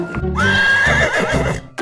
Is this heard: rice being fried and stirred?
no